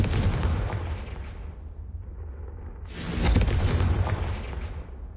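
Booming blasts of the Confringo fire spell in Hogwarts Legacy, one heavy explosion with a rumbling tail and a second louder burst a few seconds later.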